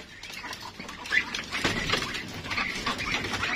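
Ducks quack and squawk in a busy flock, with scattered splashing and scuffling sounds nearby as they crowd together.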